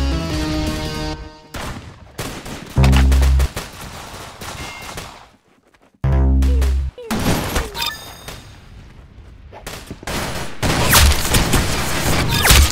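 Loud bursts of gunfire from the Roblox Arsenal video game come in rapid volleys separated by short pauses, with sharp booming shots clustered throughout.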